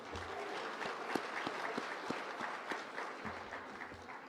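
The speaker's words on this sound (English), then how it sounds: "I want everybody to give yourselves a round of applause" An audience at a teachers' awards gala applauds, many hands clapping steadily with a few sharp individual claps standing out, moderately distant.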